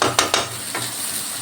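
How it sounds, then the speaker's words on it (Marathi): Onion frying in a kadai while being stirred, with a few scraping stir strokes over a steady soft sizzle, close and alone without talk. "आता हा छान फ्राय होईल"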